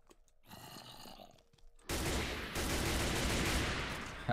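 Video game gunfire rings out as a dense burst of shots, loud and sustained for a couple of seconds after a quieter, muffled stretch of game sound.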